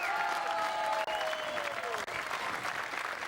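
A partisan crowd at a Weber Cup bowling match roars and applauds in a sustained, loud wash of clapping and cheering, with voices blending into the din throughout.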